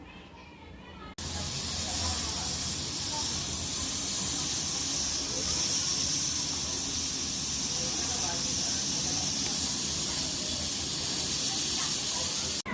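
A pressure cooker releases steam while vegetable pulao cooks inside. After a short quiet start, a loud, continuous rushing hiss begins and holds steady to the end, close to the listener.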